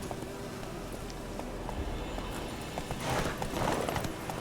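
Roach, a horse in the video game The Witcher 3, trots along with a steady run of soft clip-clopping hooves over a quiet background, growing a little busier toward the end.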